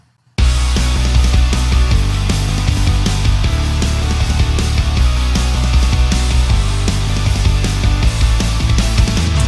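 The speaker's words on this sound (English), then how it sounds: "And so now when you add the guitars to the bass and the drums," An anime theme song plays with layered rock guitars over bass and drums, a loud, dense, steady full-band arrangement with driving low end and rhythmic drum hits, purely instrumental.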